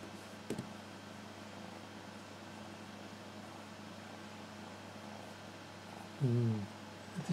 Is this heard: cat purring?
yes